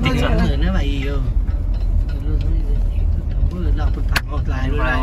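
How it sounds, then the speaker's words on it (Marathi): A car rolls up to a farmhouse gate, its engine rumbling steadily and close throughout while people talk over it. "गाडी आतमध्ये जाणार."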